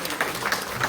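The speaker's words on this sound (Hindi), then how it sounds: "जोरदार तालियां चाहूंगी हेम जी के लिए।" Applause from an audience at a live folk music show at an indoor theatre, a brief burst of steady, dense clapping at moderate level.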